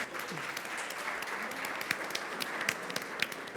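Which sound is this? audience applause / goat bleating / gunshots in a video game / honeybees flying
audience applause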